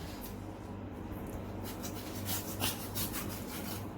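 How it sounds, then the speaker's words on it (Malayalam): A knife or shears cutting through the tough skin and flesh of a shark fish, giving a steady rasping, scraping drag that runs continuously at close range with no one talking. "നമുക്ക് ഈ ഭാഗവും കട്ട് ചെയ്ത് കളയണം."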